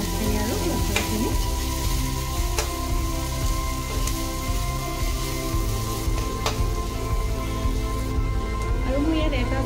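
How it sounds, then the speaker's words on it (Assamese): Chopped onion and garlic frying in oil in a pan for an egg chop, a dense continuous sizzle like rain with occasional clicks, while a person talks over it. "ভাজি লম পিঁয়াজখিনি আৰু ৰসুনখিনি।"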